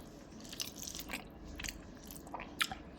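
Close, quiet chewing of rice with eggplant and carrot curry, soft crunchy bites and mouth sounds scattered irregularly over a low room hiss.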